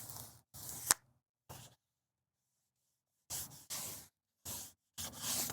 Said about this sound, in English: I'm just going to kind of score it here along my edge